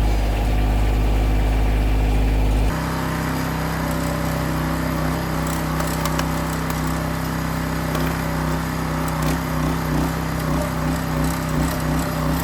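A tractor engine idling and running steadily in a wood yard while split wood is loaded into its bucket, a continuous close droning hum with a shift in tone early on and faint knocks over it.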